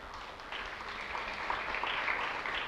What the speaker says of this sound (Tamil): நல்லா கைதட்டுங்க, நல்லா கைதட்டுங்க.